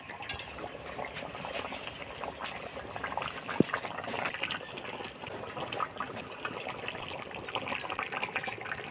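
Pieces of fresh bata fish slipped into a simmering curry broth of potato and cauliflower, giving a steady close bubbling and liquid gurgle with one sharp splash partway through.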